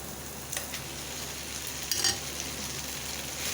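Macaroni is stirred into cooked tikka chicken in a pan with separated oil, giving a soft steady sizzle with a few brief scraping clinks of the spoon, close and short.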